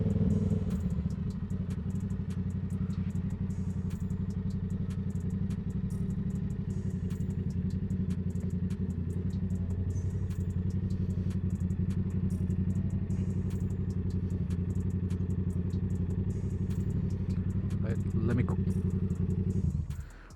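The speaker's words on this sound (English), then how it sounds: "I love how the exhaust backfires, it burbles a little bit." Yamaha R7 motorcycle exhaust idling and burbling, with a steady low rumble that stays loud and close for about twenty seconds and a short rise near the end.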